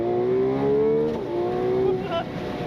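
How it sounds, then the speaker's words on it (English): A 2026 Ferrari 12Cilindri with a dual-clutch gearbox revs hard, its engine tone climbing steadily until a quick upshift briefly drops the pitch before it pulls up again. The engine is loud and close throughout. "The snap on the upshift is wonderful."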